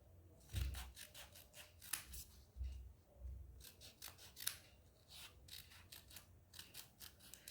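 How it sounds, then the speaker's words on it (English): Scissors snipping through folded paper to cut a 3D craft snowflake, a close run of crisp repeated cuts with soft paper rustling between them, quiet and without talk. "we have to start cutting from the side, the closed side from where we have started drawing the line. So let's cut it."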